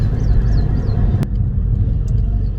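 A Volkswagen Golf Mk5 GT TDI with a 2.0 TDI diesel engine heard while driving, giving a loud, steady low engine and road rumble from inside the cabin. A single sharp click cuts in briefly near the middle.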